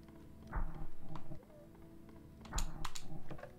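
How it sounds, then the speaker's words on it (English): Rapid clicking from the ceiling in the horror game Spooky's Jump Scare Mansion, two short bursts of quick, regular ticks separated by a pause, moderately loud over a low ambient hum. "I now hear the clicking too."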